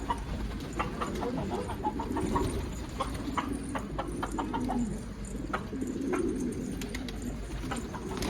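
A rooster and hens give a steady stream of clucks and short calls that keep up the whole time, with dense scratchy barnyard noise underneath and no voices.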